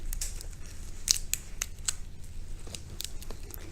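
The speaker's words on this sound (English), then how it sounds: "Now I'm just going to bind those with some pot tape" Sticky pot tape being pulled, torn and wrapped around a bundle of cut flower stems for a modern floral arrangement, a few sharp close snips and crackles over a low steady rustle.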